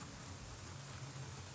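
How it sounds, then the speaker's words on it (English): Steady rain falling in the video game Cemetery Mary, a soft continuous hiss with low rumbling underneath, even and unbroken throughout with no talking. "It's raining."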